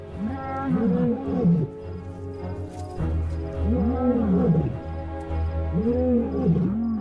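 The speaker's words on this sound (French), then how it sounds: "la nuit résonne à nouveau des cris de la parade amoureuse d'un couple de lions" Deep, rhythmic roars of a courting lion pair in Botswana at night, in repeated grunting bursts, loud and resonant, rising and falling in three waves, with no voices.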